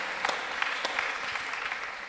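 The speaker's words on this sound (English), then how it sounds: "Just give yourself a round of applause," Indoor audience at a Kimberley opera concert and symposium claps together, a steady wash of many hands with a few sharper individual claps standing out, fairly loud and continuous throughout.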